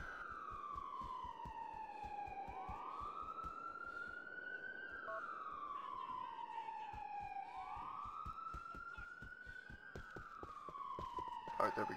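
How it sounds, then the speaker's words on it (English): Police sirens wail in an LCPD:FR police video game set in New York, several overlapping sirens sweeping slowly up and down in steady cycles, continuous and moderately distant across the whole stretch, with a sharper burst at the very end. "I hear a bunch of sirens, but I don't see any cars."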